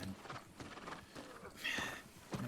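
A horse walks in New World, a few uneven hoof clops on the ground amid soft rustling ambience, with a brighter whinny-like burst near the end.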